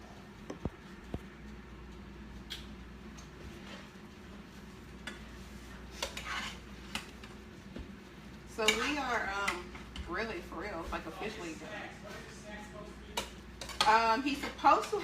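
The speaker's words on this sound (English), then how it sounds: "you are going to get a spoon or something over there so you can stir all this up" Metal spoon stirring food in a pot during home meal prep, with clinks and scrapes of dishes and cutlery that grow busier and louder toward the end, under a faint background hum.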